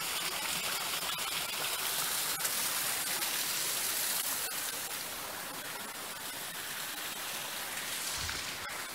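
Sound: small waterfall in Monte Palace Gardens, Madeira

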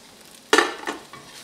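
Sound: cabbage pie frying in a pan after flipping

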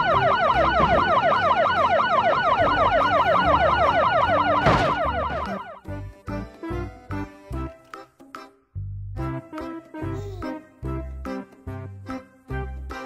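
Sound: toy police car siren

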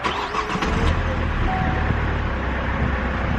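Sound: Opel Meriva B car engine starting

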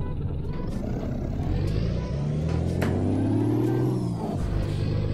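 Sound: truck braking in video game Euro Truck Simulator 2

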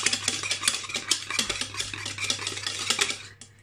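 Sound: hand whisking cupcake batter in a bowl

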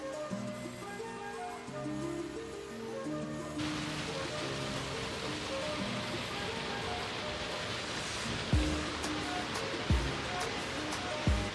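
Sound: small waterfall flowing at Konni

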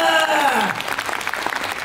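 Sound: audience applause

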